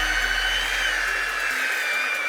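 A car polishing wheel with Meguiar's Mirror Glaze runs at low speed on car paint, giving a steady close whirring drone with a low hum that fades partway through.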